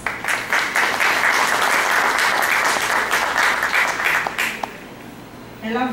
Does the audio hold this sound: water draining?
no